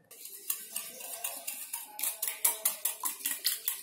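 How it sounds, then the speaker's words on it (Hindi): Egg and sugar are beaten together in a bowl for a chocolate cake, a steady fast run of metallic clinks and scrapes that grows louder and more regular partway through, close up and with no speech. "अच्छे से मिक्स करेंगे।"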